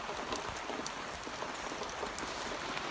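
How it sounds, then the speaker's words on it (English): Steady rain falls outside a shop, a dense, even hiss with scattered sharper drop taps throughout. No voices are heard. "it's still raining"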